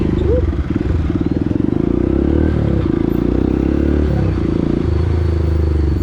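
A motorcycle engine drones steadily on a city street during a drive toward Makati, its low rumble close and continuous with some rattling clatter mixed in.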